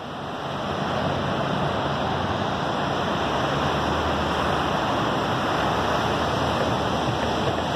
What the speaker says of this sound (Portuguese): esse aqui é o rio Ottawa, tá com alagamento,